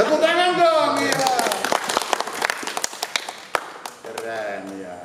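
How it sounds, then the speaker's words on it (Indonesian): A small group gives a short burst of scattered, uneven handclaps during a Catholic Bible talk, the claps sitting between stretches of speech at the start and end. "Tepuk tangan dong, ya."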